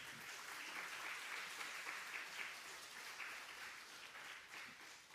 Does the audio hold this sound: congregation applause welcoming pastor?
yes